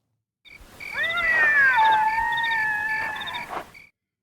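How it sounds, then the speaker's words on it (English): A single drawn-out, wavering cat cry, rising then sliding down in pitch and holding for a few seconds before cutting off. "That's a cat."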